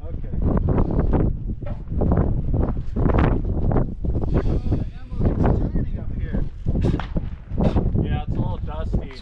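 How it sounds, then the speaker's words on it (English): Strong gusts of wind buffet the microphone in loud, irregular bursts at an outdoor shooting range near Big Bear, California, with a person talking through the noise. "Windy, it's hard to keep your stance."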